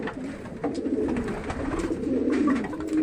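Pigeons cooing at a farm loft of homing pigeons in Campo Grande, Mato Grosso do Sul, with several overlapping soft throaty coos repeating steadily against a faint rural background.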